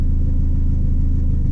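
A tuned car engine idles slightly rich before fully warming up, a steady, loud, low rumble held close and alone with no voices.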